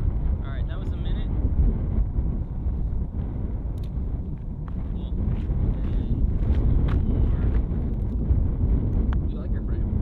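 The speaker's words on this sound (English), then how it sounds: "We are a little worried about the wind moving the tripod." Strong wind blowing outdoors on a road trip, a steady loud rumbling buffet across the microphone throughout.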